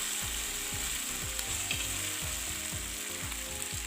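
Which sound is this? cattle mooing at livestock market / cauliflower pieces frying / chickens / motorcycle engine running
cauliflower pieces frying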